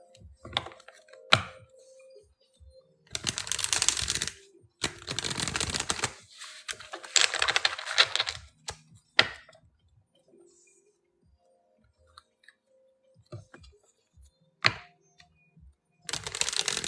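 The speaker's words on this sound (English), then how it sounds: "Crystal, I'm shuffling up your cards." Tarot cards being shuffled in hand, bursts of dense crisp riffling and flicking in several separate runs with quiet gaps between, close and fairly loud.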